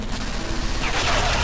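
Automated turret gunfire in the Portal 2 video game, a dense, continuous rattling burst of rapid shots filling the whole moment, with a player's voice partly mixed in.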